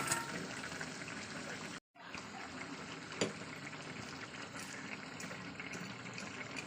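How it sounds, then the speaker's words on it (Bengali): Fish dropped into a boiling curry broth for an aamudi fish chochori, giving a steady bubbling, watery simmer close by, with a brief gap and a single small splash partway through. "এদিকে আমার ঝোলটা ফুটে গেছে আমি এবার এরপরে মাছটাকে দিয়ে দেবো"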